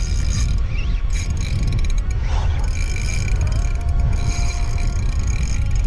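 A fishing reel is cranked hard while fighting a giant fish on live bait, its ratcheting mechanical whir running continuously and loudly over wind and water noise.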